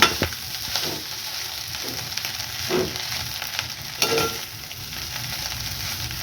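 Prawn pittu frying in a pan while being stirred, a steady close sizzle broken by scraping strokes of the spoon at irregular intervals, with no talking.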